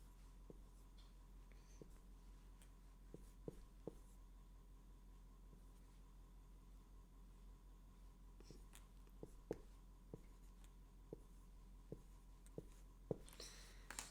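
A pen writes letters by hand on paper, giving faint scratching strokes with sparse, soft taps scattered across the passage under a low background hum.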